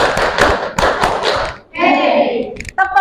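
Students in a classroom clap in a rhythmic clapping routine, a run of loud, close group claps followed by children's voices speaking.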